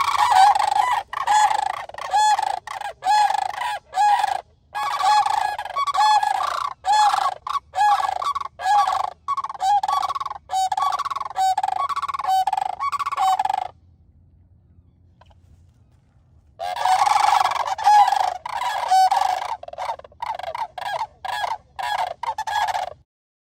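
Sandhill cranes giving loud, rolling bugling calls in rapid overlapping bursts, repeated almost continuously for about thirteen seconds, then a short quiet gap before another strong burst of calling.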